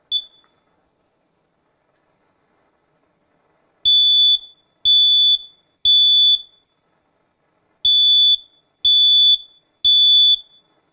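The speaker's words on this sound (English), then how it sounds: "I'm going to simulate unattended cooking by pressing the smoke detector." Smoke detector set off by pressing its test button during a simulated unattended-cooking demo with the gas stove on, giving six loud piercing beeps in two groups of three after a brief initial chirp, with no talk.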